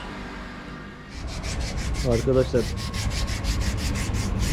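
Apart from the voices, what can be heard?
sanding car part by hand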